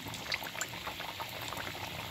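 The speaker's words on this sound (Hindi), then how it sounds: "अब इसको मैं दूसरे बैच की भी मैं फ्राई कर लूँगी, सारी मैं डाल दूँगी फटाफट" Mathri snacks sizzle and bubble steadily in hot oil in a home kitchen, a soft continuous frying hiss with small pops, heard close and alone.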